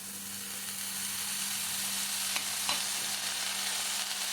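Vegetables fry in a pan with soy sauce and chili sauce for momo filling, giving a steady, moderate sizzle with a couple of faint stirring scrapes and no voices.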